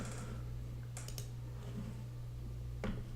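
Computer mouse clicks on a desk, a few quiet, crisp taps spaced over a steady low hum, with no talking.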